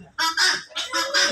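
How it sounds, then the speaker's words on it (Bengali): Pet birds call loudly nearby in a series of about four harsh, honking cries, closely spaced and alone without talk. "অন্য পাখিগুলো খুব ডাকাডাকি করছে,"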